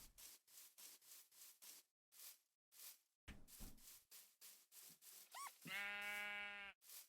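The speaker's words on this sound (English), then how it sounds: "There's a sheep." A Minecraft sheep bleats once, a drawn-out wavering baa near the end, after a run of soft rhythmic footstep and rustling thuds in the game, fairly quiet overall with no speech.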